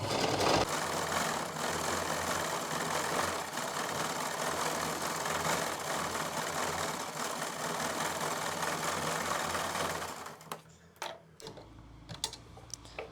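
Sewing machine running a zigzag stitch along a salwar hem, a steady close rapid mechanical whir for about ten seconds that then stops, followed by a few light clicks.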